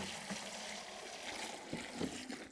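Lake water is poured into a container to make compost tea: a faint, soft trickle and slosh with a few brief splashy bursts toward the end.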